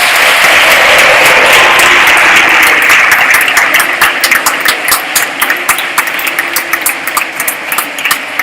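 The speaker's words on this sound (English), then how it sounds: "Clapping is in order." Audience in a Model UN general assembly hall applauds after a resolution passes, a dense, loud wash of clapping that thins out into scattered individual claps toward the end.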